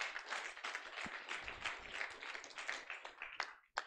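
A conference audience claps in a sustained, fairly quiet round of applause at a diversity event, steady throughout before cutting off abruptly at the end.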